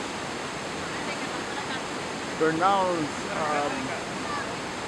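Waterfall in Yosemite, a steady broadband roar of falling water running throughout, with a crowd of visitors and someone talking over it midway.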